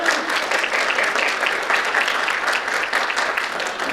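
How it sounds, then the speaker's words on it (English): A crowd applauds steadily at an arts festival, with dense, continuous clapping that stays fairly loud and even throughout, without a break. "So a round of applause for them"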